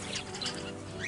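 A caged bird chirps in short bright calls over a faint background hum, fairly quiet and without talk.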